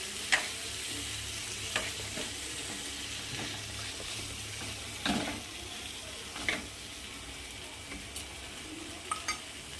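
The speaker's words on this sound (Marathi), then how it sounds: "आता याला असं मिक्स करून घ्यायचं आहे" Fresh green peas are stirred in a pan, with soft scrapes and light clicks of a spoon over a faint, steady sizzle, close and quiet.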